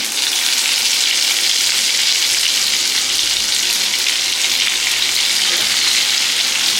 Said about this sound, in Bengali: পেঁয়াজটা আর্ধেক ভাজা হয়ে গেছে